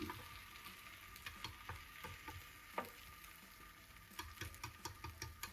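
Egg mixture sizzles quietly in a square pan, a soft steady fry punctuated by scattered light taps and pops, with a cluster of crisp ticks toward the end.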